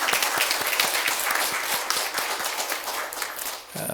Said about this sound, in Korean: 우리 크게 하나님 앞에 다시 영광의 박수를 돌리겠습니다.